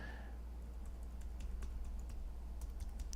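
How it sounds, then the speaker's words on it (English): Light keystrokes on a computer keyboard as notes are entered into a data-entry field, soft irregular clicks close by over a steady low hum, no voices. "you can type in any notes you want, unlimited number of characters"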